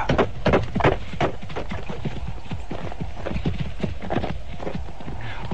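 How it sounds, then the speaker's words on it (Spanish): Horse hooves clip-clop along a short causeway toward an old house, a steady, close, loud trotting rhythm of sharp knocks with no voices, staged as a radio drama effect. "cabalgué por una corta calzada que me condujo a la casa"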